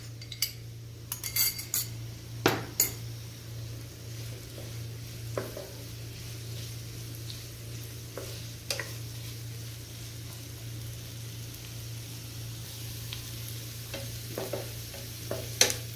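Onions and green chilies sauté in a pan, a soft constant fry under a steady hum, with a spoon clinking and scraping the pan at irregular moments.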